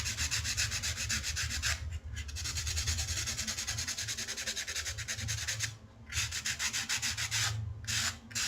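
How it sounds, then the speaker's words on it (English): Sanding scratches against a metal wire earring frame in long, continuous back-and-forth strokes, briefly pausing a few times, close and fairly loud. "Do the sanding."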